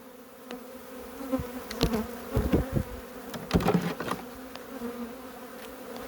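An agitated colony of hybrid honeybees swarming inside a trap hive gives a steady close buzzing hum that swells in louder surges through the middle.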